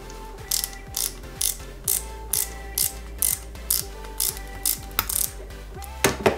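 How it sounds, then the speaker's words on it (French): A small screw is driven into the rear of a Peugeot 205 GTI 1.9 scale model, producing a regular series of crisp ratcheting clicks, about two per second, close and clear with no talk. "Et à l'arrière, on y met une vis"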